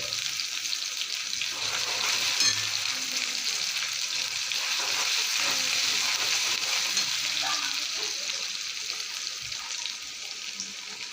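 Onion, green chili and garlic paste fries in hot oil in a pan with a steady, loud, even sizzle that goes on throughout, without a break.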